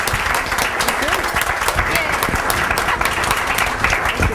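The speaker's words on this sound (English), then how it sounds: "I want to give a big round of applause to our panel" An audience at a panel discussion on childcare jobs claps in a sustained, dense burst of applause, loud and close, with faint voices mixed in.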